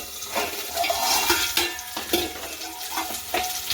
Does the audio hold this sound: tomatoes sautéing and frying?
yes